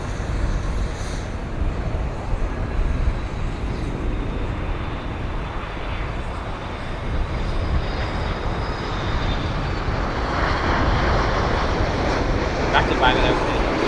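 An Aer Lingus Airbus A330 airliner at Chicago O'Hare airport gives a broad, steady jet roar with wind buffeting the microphone, swelling slightly toward the end.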